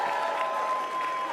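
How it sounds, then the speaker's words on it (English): A political conference audience applauds and cheers loudly and continuously, a dense wash of clapping from a large crowd with a steady tone running under it. "I think you got a very loud cheer"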